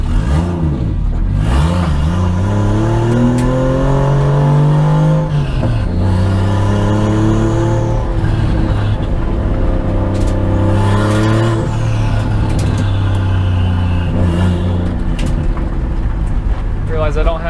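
A Chevy Nova fitted with a 1JZ engine pulls away down a street on its first drive, the loud engine note rising and falling through revs and gear changes, with tire noise and talk over it.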